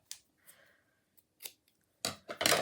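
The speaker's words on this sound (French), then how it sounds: "les ciseaux" Scissors snipping close by, a few quiet clicks and cuts followed by two louder, crisp slicing snips at the end.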